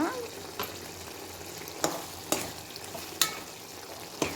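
Tomatoes fry in oil for Andhra-style tomato gojju with a steady hiss of sizzling. A spoon scrapes and stirs the pan in sharp, irregular strokes every second or so.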